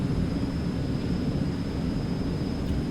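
An Eclipse 550 jet takes off in the X-Plane 11 flight simulator, its engines a steady, loud, broadband roar that holds constant throughout, close and alone.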